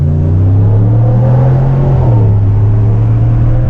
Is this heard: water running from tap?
no